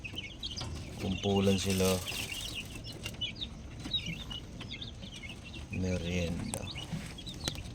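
Young, just-hatched Rhode Island chickens cluck and peep in scattered bursts at a farm at night. Someone talks over them in two short stretches.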